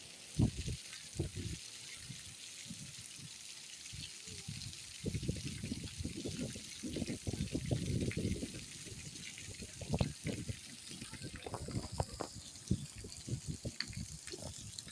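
Water splashes and gushes at an outdoor splash park as a child plays, with uneven bursts of spray and broad watery wash, moderately loud and close, over a steady background hiss.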